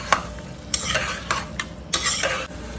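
White field beans (avarekalu) fry in a pan with a steady sizzle, broken by several scraping stirs in quick bursts; close and fairly loud, no voices.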